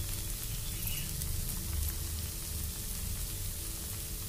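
A jowar flour dosa frying in oil on a pan, a faint, even hiss and soft crackle that holds steady throughout with no one speaking.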